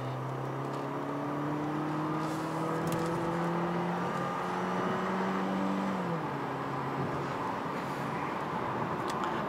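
A 2024 Mercedes A180 with a 1.3-litre petrol engine accelerates at full throttle from a green light, its loud engine note climbing through gears, with a clear shift and pitch drop around six seconds, no talking.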